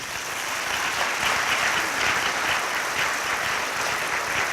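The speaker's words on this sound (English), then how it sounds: "Save the applause for the graduates." A large crowd at a high school commencement applauds steadily, a dense, even roar of clapping that swells slightly and holds at full strength without talk.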